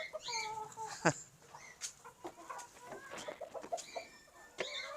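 A rooster and crested hens cluck on a poultry farm, a busy mix of short clucks and squawks at close range, fairly faint, with no talking.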